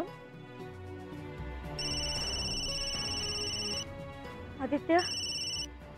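A telephone rings for an incoming call with repeated electronic tone bursts, fairly loud and close, during an emotional household conversation; people speak in the room around and between the rings.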